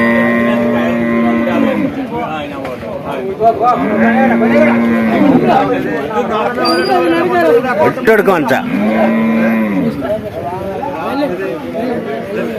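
Long, low bull moos repeat every few seconds over busy crowd chatter and talking, a loud scene at a cattle market in Kerala with several animals calling.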